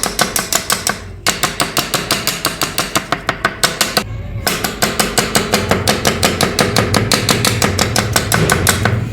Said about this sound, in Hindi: इस तरह हमने इसको अच्छी तरह सारे के सारे को चॉप कर लेना है और इसको ग्राइंड बिल्कुल नहीं करना।